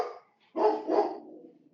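A dog barks twice in quick succession, fairly close and loud, with no talk over it.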